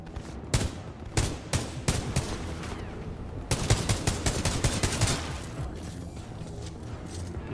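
Rifle fire from a thermal-scoped sniper in the video game Titanfall 2: sharp, loud shots in an uneven rhythm, several widely spaced early on, then a dense rapid burst, with no talking.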